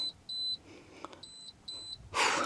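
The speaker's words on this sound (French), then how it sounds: "Ce siège auto qui fait que sonner, c'est trop chiant." A baby car seat alarm gives repeated short, high electronic beeps in pairs, with a few faint handling knocks between them and a brief loud rustle at the end.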